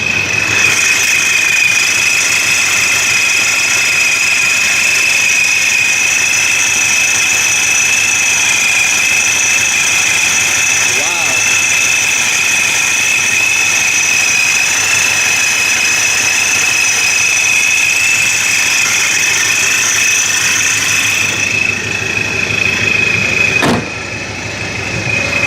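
A supercharged New Edge Mustang GT with a Vortech V1 Ti-Trim idles steadily and close by. A constant high whine rides over the engine drone, and a single sharp click comes near the end.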